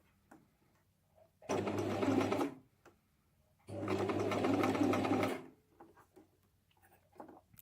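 Two separate bursts of a sewing machine stitching a zipper, each a loud, close, rapid mechanical whir lasting about a second or so, with quiet pauses between them.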